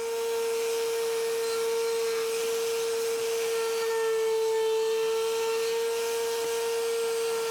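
Router table with a round-over bit making a climb-cut pass on wood, a loud continuous high-pitched whine with a steady tone and broad cutting noise throughout, no voices.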